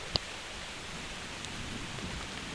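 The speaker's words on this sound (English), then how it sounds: "It's just kind of raining." Steady, even hiss of rain falling during a thunderstorm at a kayak campsite, with a single sharp tap near the start and a faint knock later.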